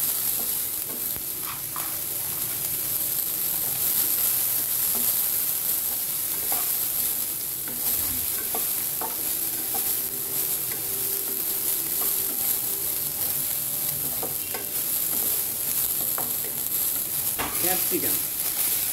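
Carrots fry in a pan for idli sambar, a constant close sizzle and hiss with intermittent stirring scrapes, and faint talking now and then beneath it.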